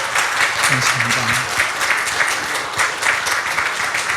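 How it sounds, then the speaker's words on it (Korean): Congregation clapping at a Korean Sunday church service, a loud, even round of applause throughout, with someone briefly speaking over it. "큰 박수로 땡큐 해주시면 감사하겠습니다."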